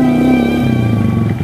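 A motorcycle engine runs close and loud, holding a steady idle with a slight drop in pitch partway through, with no voices over it.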